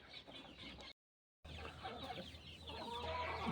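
Aseel chickens cluck close by on a farm in short, scattered bursts, with a brief gap of silence before the clucking resumes and grows busier.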